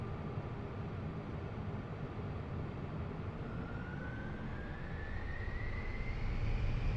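A B-2 Spirit bomber at full throttle in a flight simulator game gives a steady broadband engine roar with a rising whine, alone and with no talk.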